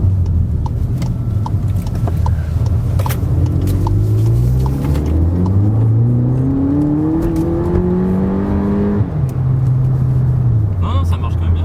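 A Volkswagen Polo 6 GTI engine heard from inside the car, climbing repeatedly in pitch through several gears with distinct shifts, steady and fairly loud beneath ongoing conversation.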